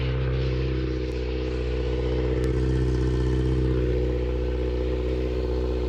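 Kawasaki ZX6R sport motorcycle engine, freshly rebuilt and still smoking, idling steadily and loudly up close with a constant drone and light mechanical clatter.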